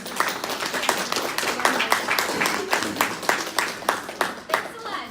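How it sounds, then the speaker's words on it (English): Crowd of listeners at an accounting society talk applauding a guest speaker, a full burst of many hands clapping that stays lively and then tapers toward the end. "So let's give a round of applause for her."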